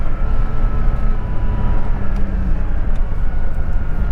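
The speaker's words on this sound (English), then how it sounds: "the turbo spooling up" A 1989 Porsche 930 Turbo engine roars loud and close in a steady, dense rumble, with no pause and no voices.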